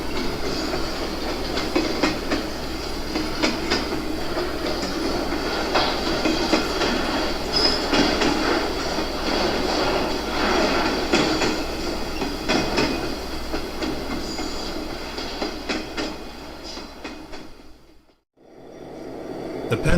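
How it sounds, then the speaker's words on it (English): A Penn Central unit coal train on a virtual model railroad slows on its approach into West Mill Yard past WM Tower, a steady rumble with rhythmic wheel clatter and squeal, loud and continuous, then dropping briefly to near silence before resuming. "Slowing now on its approach into West.Mill Yard."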